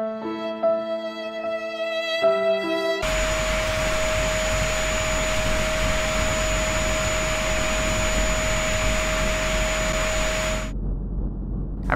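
Vacuum cleaner in the Marriage Simulator game, which roars on suddenly after a few soft chime tones and holds a loud, steady whine with a high tone for several seconds before cutting off abruptly.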